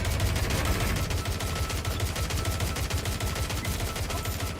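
Rapid automatic gunfire in the video game Watch Dogs: Legion rattles loud and close in a dense, continuous burst throughout, with no talking.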